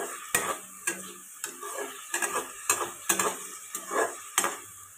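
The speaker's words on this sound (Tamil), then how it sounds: "ஸோ நல்லா கிளறி விட்டு வதக்கிக்கலாம்." Tomatoes with rock salt being stirred and sautéed in a pan: repeated scraping strokes of a spoon against the pan at a steady rhythm over a soft sizzle, close and clear with no talking.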